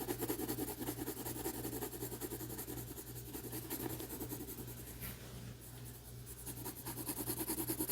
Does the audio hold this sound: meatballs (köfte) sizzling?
no